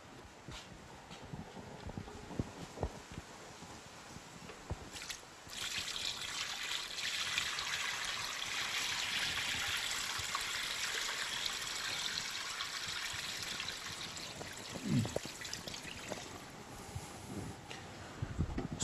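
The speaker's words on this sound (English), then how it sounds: "pour it into this bin" Brine made with paakai salt, black pepper and brown sugar poured into a bin for smoke meat, a steady close trickle and splash lasting several seconds between quieter handling noises.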